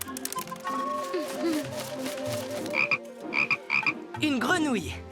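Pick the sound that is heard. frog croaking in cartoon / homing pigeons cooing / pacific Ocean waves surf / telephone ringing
frog croaking in cartoon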